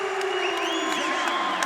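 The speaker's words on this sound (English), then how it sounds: "Look at the crowd. Everybody is on their feet" Large arena crowd at a wrestling event cheers in a sustained standing ovation, a dense steady roar with scattered whoops and shouts rising above it.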